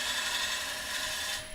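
A lathe gouge slices slowly and steadily from the inside toward the rim of a thin-walled wooden bowl, a continuous close rasping hiss with no voices.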